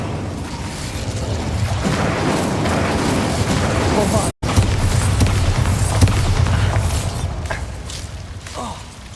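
Incendio fire spell cast on Devil's snare in Hogwarts Legacy, a continuous rushing, crackling burn with low booming rumble that runs for several seconds, briefly cuts out, then resumes and slowly tapers off.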